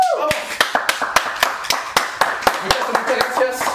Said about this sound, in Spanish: Por favor, un aplauso desde el estudio.